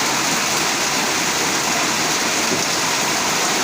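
Heavy, continuous rain pours down in a dense, even roar, close and loud throughout, with a goose sitting out in it.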